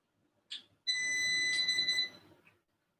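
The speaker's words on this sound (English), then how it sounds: "just press and hold that and it'll start beeping and then it'll shut down" A UPS unit beeps as it shuts down: a short chirp, then one sustained electronic beep of about a second, and a faint final blip in an otherwise quiet room.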